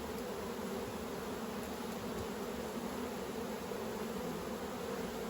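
Steady, dense hum of honey bees swarming around an open beehive during autumn hive work, continuous and even throughout with no voices.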